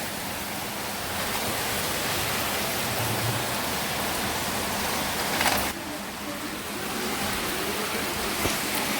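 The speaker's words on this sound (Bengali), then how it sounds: "একটু পরে আমার রুমে পানি আসবে অনেক পানি হয়ে গেছে" Floodwater flowing into a house makes a loud, continuous rushing wash, steady and broad like heavy rain or a waterfall, close by with no break.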